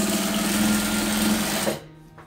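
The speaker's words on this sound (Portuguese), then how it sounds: "E venho costurando em cima dessa costura aqui, ó." A sewing machine runs steadily, stitching a double-sided placemat made from fabric scraps, a close continuous whir that stops abruptly near the end.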